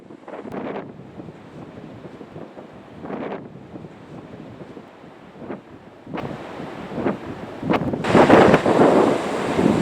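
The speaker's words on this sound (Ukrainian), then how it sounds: "Дуже сильно, аж сніг здуває. Неможливо знімати при такому вітрі." Strong winter wind roars through a forest and whips up snow, with heavy buffeting gusts on the microphone that swell into a loud burst near the end.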